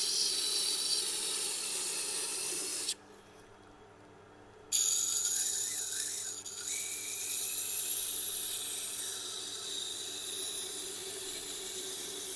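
Knife tip held against a turning sharpening stone wheel, producing a continuous bright hiss and grinding rasp that cuts out briefly for a couple of seconds, then resumes steadily at close range.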